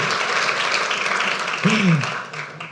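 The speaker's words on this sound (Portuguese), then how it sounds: "1, 2, 3, aplausos" A church congregation clapping on cue, a brief dense round of applause with a voice briefly rising above it partway through.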